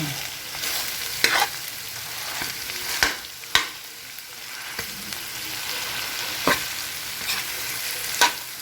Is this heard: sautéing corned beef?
yes